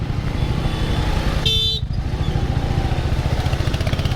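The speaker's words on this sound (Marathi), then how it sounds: "इथं ट्रॅफिक जाम झालंय" Jammed traffic at a town square chowk in Baramati, with motorcycle engines chugging close by, cars idling, and one sharp horn blast partway through over the constant rumble.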